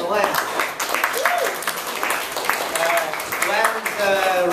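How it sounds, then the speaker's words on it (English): Applause at a literary reading event, steady and fairly close, with a voice speaking over the clapping the whole time. "Let's give everyone a round of applause for Len."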